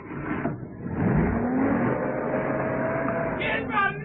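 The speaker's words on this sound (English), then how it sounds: "He's making for the lorry." A lorry engine revving as the vehicle pulls away in a crime drama chase scene, a loud sustained rising motor drone with shouted voices over it.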